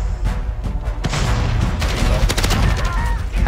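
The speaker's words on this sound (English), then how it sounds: "I started shooting before I aimed at him." Gunfire in Modern Warfare 2, a fast string of sharp shots and bursts with some heavier booms, loud and close amid the clatter of a multiplayer match.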